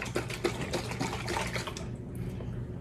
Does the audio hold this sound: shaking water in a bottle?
yes